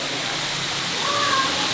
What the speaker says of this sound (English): This is the coolest waterfall.